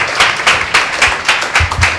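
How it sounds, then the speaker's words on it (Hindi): A church congregation at a Sunday meeting claps for God's glory, a steady run of rhythmic, closely miked handclaps at about four per second with no talk. "एक जोरदार ताली देंगे परमेश्वर की महिमा के लिए"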